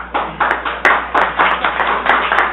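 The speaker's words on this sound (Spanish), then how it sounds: "Recuerden que están prohibidos los aplausos" An audience applauds in a Colombian senate hearing, giving loud, close, rhythmic clapping in a steady run of pulses with no talk over it.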